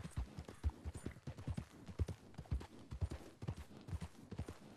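Horse hooves clip-clop in steady rhythm along a trail in the video game Red Dead Redemption 2, close and fairly quiet, at a brisk trot with no talk over them.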